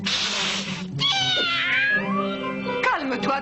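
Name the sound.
cat meowing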